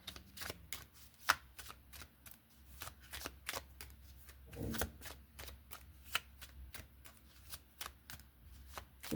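Tarot cards are shuffled by hand in quick repeated riffling flicks, a steady crisp patter of card edges close up and fairly quiet, with no talk over it.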